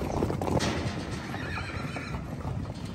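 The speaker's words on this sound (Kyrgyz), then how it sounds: "бул жакта 15 баш ушундай жылкы бар экен, ургач" Horses at a stud farm, Orlov and Akhal-Teke mares with foals, give nearby neighs and whinnies over the clip-clop of hooves, with no talking.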